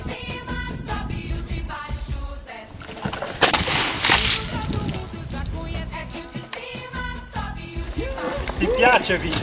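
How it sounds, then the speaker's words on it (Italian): Water balloons burst and splash during a water balloon fight at a 2011 treasure hunt event in Guasila, with sharp splatters amid excited voices and shouting. "Giochiamo a fare la guerra con i palloncini d'acqua"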